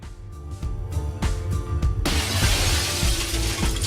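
Glass breaking in The Sexy Brutale, a loud shattering crash that begins partway through and continues as a dense, sustained spray of fragments over the game's music and earlier thuds.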